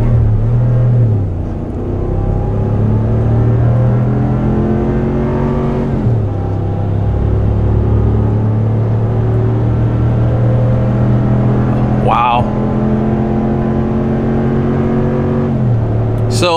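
A fifth-generation Ram 1500 Rebel pickup truck's engine roars at wide-open throttle while towing, heard from inside the cab, pitch climbing through several gear shifts, loud and sustained with brief dips between gears.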